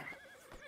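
A horse in Red Dead Redemption 2 gives a short, close whinny, a brief wavering neigh with a few faint hoof clops underneath.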